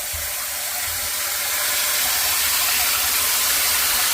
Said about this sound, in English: The water's on.